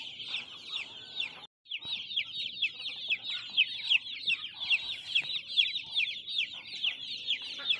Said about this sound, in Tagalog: nandito po tayo ngayon sa ating mga alagang manok at chabibe, yan, sa kulungan